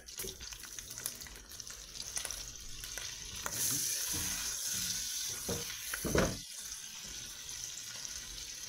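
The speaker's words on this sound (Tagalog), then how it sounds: "Habang pinapa-melt natin yung butter" Butter melting and sizzling in a frying pan, heard as a steady crackling hiss that runs throughout, with a brief louder burst near the end.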